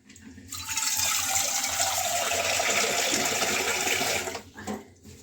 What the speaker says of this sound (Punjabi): ਜਿੰਨਾ ਕੁ ਪਾਣੀ ਚਾਹੀਦਾ ਸੀ ਉਹਨਾਂ ਕੁ ਪਾਣੀ ਇਹਦੇ ਵਿੱਚ ਪਾ ਲਾਂਗੇ